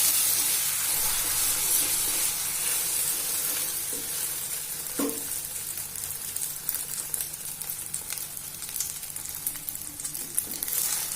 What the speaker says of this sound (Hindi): अब इसमें मिक्स करेंगे, इसको भुर्जी बनाएंगे।